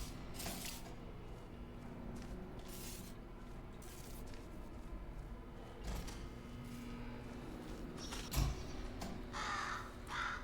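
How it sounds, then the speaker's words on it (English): A crow caws a few times inside the Portal Stories: Mel video game, set against a steady ambient game hum, with one louder thump near the end. "Bird!"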